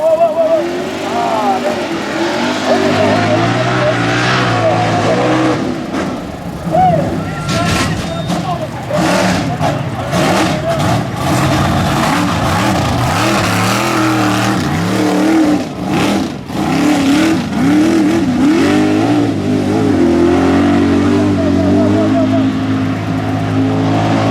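A mega truck engine roars and revs hard through a mud bog run, loud and close, its pitch climbing and dipping in repeated surges for over twenty seconds, with scattered shouts and voices mixed in under the engine noise.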